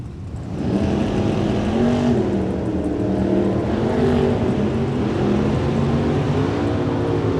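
Drag racing cars, a Charger and a small block 1967 Camaro, at Sonoma: a steady, loud engine drone with rising and falling pitch holds throughout after a brief quieter start, with no talk.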